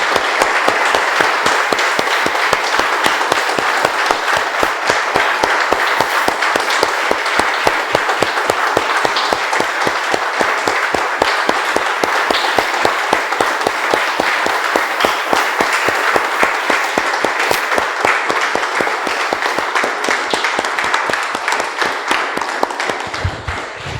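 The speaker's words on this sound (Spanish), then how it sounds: "Damos un aplauso, hermanos." A church congregation bursts into sustained applause, dense steady clapping from many hands that carries on evenly for over twenty seconds before tapering off at the end.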